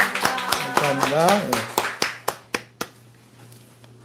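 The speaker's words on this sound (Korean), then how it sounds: "우리 축하의 박수 드리죠" Church congregation clapping to congratulate an elder and deaconess, a run of sharp separate claps that slow and fade out, under a brief spoken congratulation and reply.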